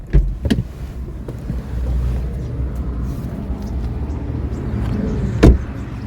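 A BMW X1 sDrive18i engine starts and settles into a low, steady idle, heard close with a couple of sharp clicks before it and a thump near the end.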